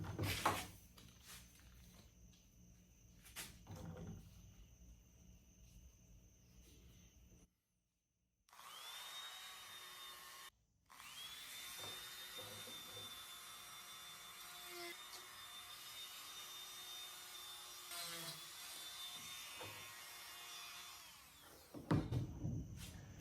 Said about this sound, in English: I'll finish that up with a Dremel